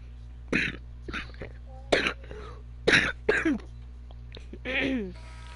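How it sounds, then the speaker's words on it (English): A sick man coughs and clears his throat in several separate rough bursts, close and fairly loud, with short pauses between them. "Sorry for my cough, dude."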